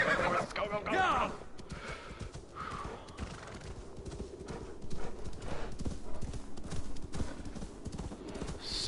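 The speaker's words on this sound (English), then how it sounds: "Hurry up, horse, hurry up, horse, hurry up, horse. Let's go, go, go, go!" A horse gallops in the video game Assassin's Creed Valhalla, its hooves clip-clopping in a fast, steady rhythm with a brief whinny near the start, while a player urges it on over the hoofbeats.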